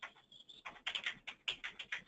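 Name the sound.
typing on a computer keyboard into a comment box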